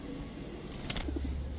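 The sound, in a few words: pigeons cooing at pigeon seller's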